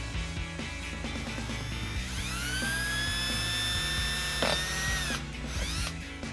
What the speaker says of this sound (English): use a pilot bit to drill a 1/8 inch hole